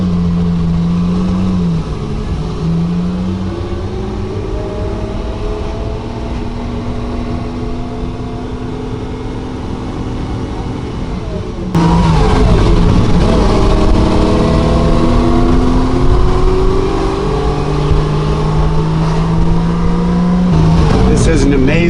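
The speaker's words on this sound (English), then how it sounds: "We're taking off with the 250 PF" A 1960 Ferrari 250GT Pininfarina Cabriolet driving off, its engine loud and close, revving and rising through gears with a sudden jump in intensity midway, steady roar continuing throughout.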